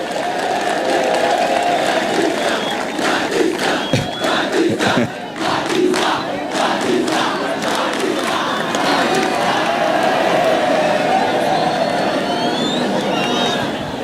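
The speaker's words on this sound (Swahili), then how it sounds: "Aya, tumpigie makofi." Audience applause and crowd noise at a boys' senior school gathering, held as a steady dense wash of clapping and cheering through the whole stretch, with babble mixed in.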